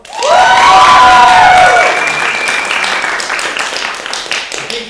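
A comedy improv crowd erupts in loud cheering, shrieks and applause, peaking right away and then settling into steady clapping that slowly fades.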